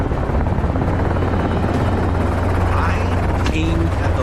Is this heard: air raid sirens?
no